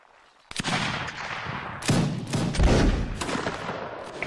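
Musket volleys in the Napoleonic Wars game, a sudden crackling burst of overlapping shots followed by more ragged gunfire and booming reports, loud and close, with no talking.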